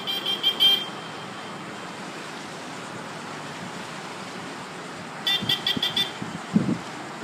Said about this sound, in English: It just keeps honking.